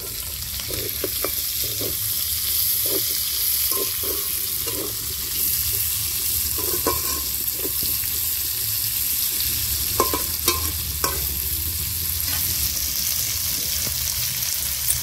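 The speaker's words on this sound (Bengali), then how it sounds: "লাল হয়ে গেছে, কুচিয়ে রাখা পেঁয়াজটা দিয়ে দিচ্ছি।" Chopped onion fries in oil with dried red chilli, cumin and whole garam masala for a tomato chicken curry, a constant close sizzle with light clicks of a spoon stirring now and then.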